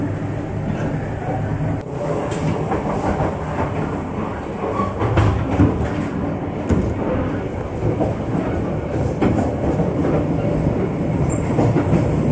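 Interior of a moving economy train between Bandung and Jakarta, riding in car number three, with a constant loud rumble, wheel clatter and occasional squeals, no talk.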